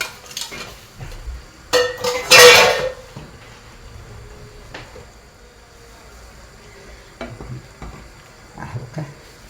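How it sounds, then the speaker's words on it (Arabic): Merguez sausages dropped into a hot clay pot give a loud sizzling burst around the middle, with scraping and clinking of utensils before and after, then a quieter simmer with occasional stirring knocks. "توا انا باش نحط المرقاس"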